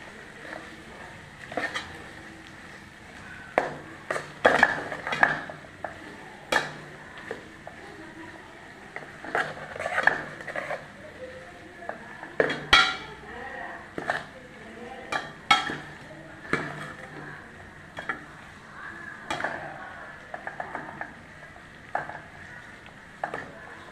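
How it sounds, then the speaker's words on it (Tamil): Crab masala paste being sautéed in a pan, with intermittent spatula scrapes and clinks against the metal and a soft sizzle beneath, while a person talks throughout. "நல்லா வதக்கி விட்டுக்கோங்க"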